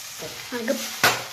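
Poha frying in a pan, for a vegetable poha dish, is stirred with a utensil: a brief soft sizzle with scraping strokes, then a sharp clink against the pan at the end, close and alone.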